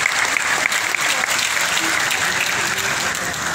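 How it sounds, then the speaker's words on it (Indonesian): Steady audience applause fills a formal gathering with professors and doctors present, dense and continuous from start to finish with no voices on top. "Tepuk tangan dulu untuk Bapak ini semua."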